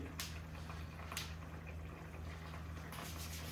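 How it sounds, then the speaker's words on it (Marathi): A pot of pav bhaji vegetable mixture seasoned with red chilli bubbles on the stove, a quiet, continuous simmering burble over a low steady hum. "उकळलं"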